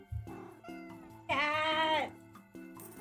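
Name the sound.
cat meowing in video game Minami Lane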